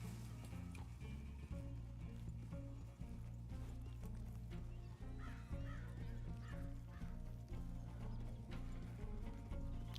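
Horse hooves clip-clopping in a video game, a steady trotting patter running under a constant bed of game music and ambience for the full stretch.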